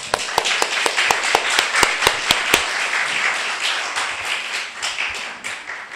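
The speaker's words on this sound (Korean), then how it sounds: "잘 다녀오라고 우리 박수로서 격려할까요?" A church congregation at a Sunday service claps together, starting with sharp, fairly loud synchronized claps in a steady rhythm that loosen into softer scattered applause.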